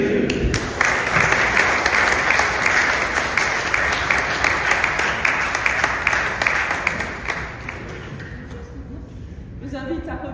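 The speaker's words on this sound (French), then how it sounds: "Alors je vous invite à dire avec moi son prénom, Jules, et à l'applaudir." A church congregation applauds together during a Sunday Protestant service in Gundershoffen, steady dense clapping filling the room for about eight seconds before thinning out near the end.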